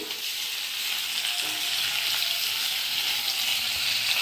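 Sabudana ingredients frying in a pan over a low gas flame, a steady, close hiss and sizzle that holds throughout with no talk.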